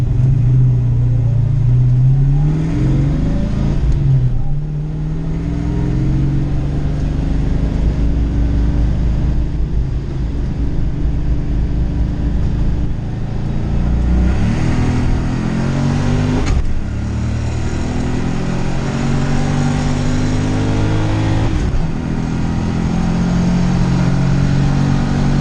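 A Foxbody Mustang with a 408 Clevor engine accelerates hard on a track, its loud V8 climbing through the revs and shifting several times, the note dropping at each shift and then building again over a constant roar.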